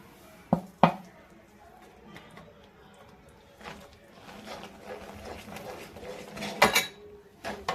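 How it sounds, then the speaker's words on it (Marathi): Sesame and peanut powder stirred into melted jaggery in a pan, with a few sharp clinks of a spoon against the pan near the start and again toward the end, soft scraping between them. "आता हे आपण तीळ आणि शेंगदाण्याचं कूट केलेलं ते आपण त्यामध्ये मिक्स करून घेऊ."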